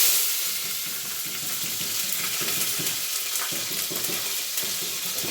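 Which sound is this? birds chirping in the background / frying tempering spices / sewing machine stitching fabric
frying tempering spices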